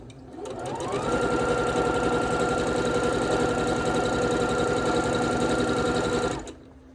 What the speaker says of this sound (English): Let's put these two together and sew 1/4 of an inch seam.